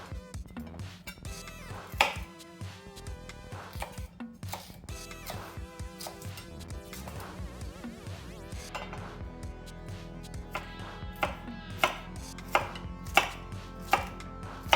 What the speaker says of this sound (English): let's set off by chopping our jalapeno and our onion